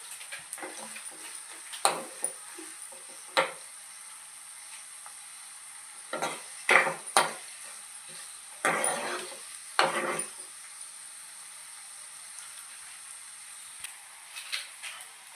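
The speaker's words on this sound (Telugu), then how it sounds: "ఇదిగోండి ఇలా బాగా కలర్ వచ్చే వరకు వేపుకోవాలండి" Lentils and seasoning frying and stirred in a pan until browned for a Telugu mudda pappu charu meal, with soft sizzling under scattered spoon scrapes and clinks, several louder stirring bursts standing out against a quiet kitchen.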